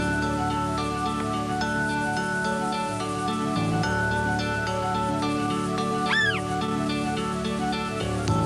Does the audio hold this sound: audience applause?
no